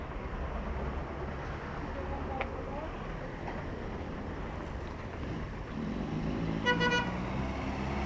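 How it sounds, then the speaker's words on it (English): Car horns toot in short bursts amid the traffic noise of a busy bazaar, fairly distant, with one clearer, closer horn blast near the end over murmuring and wind. "Honking."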